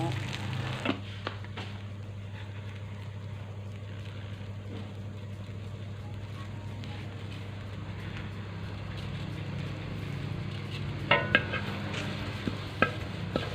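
Mexican kale tossed with salt in coconut oil over low heat gives a soft, steady sizzle under a low hum, with a few sharp scrapes and clinks of stirring near the end.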